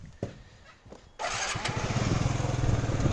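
A 50 cc Yamaha Jog four-stroke scooter is started on a frosty day: a few clicks and cranking attempts, then the engine catches and settles into a steady, fairly loud idle.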